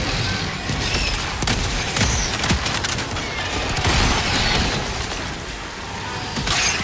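Grenade explosions and gunfire in Helldivers 2 at the hardest difficulty level form a dense, continuous barrage of loud bursts, cracks and rumbling booms with no break.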